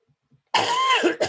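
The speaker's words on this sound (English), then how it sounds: "Forgive my cough." A single harsh cough close to the mic, followed by a short second cough, with near silence before it.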